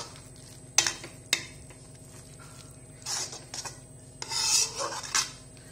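A spoon scrapes and stirs carrot halwa with raisins in a pan, giving a few rasping strokes at uneven intervals over a low, steady background hum.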